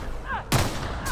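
Two sharp shots from a gun with modded bullets in The Outer Worlds, each a loud, punchy crack with a short ringing tail, spaced about half a second apart over quiet background game sounds.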